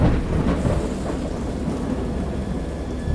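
Video game thunder in an H.P. Lovecraft Dagon game, deep and rolling with a continuous low rumble, steady and full, with no voices.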